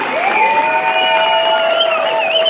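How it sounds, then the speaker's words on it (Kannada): Applause and cheering from an audience for Tulukoota Qatar dance performers at a stage show, steady and loud throughout with a few raised voices over the clapping. "ತುಳುಕೂಟ ಕತಾರ್ನ ಕಲಾವಿದರಿಗೆ ಜೋರಾದ ಚಪ್ಪಾಳೆ ಸ್ನೇಹಿತರೆ, ಜೋರಾದ"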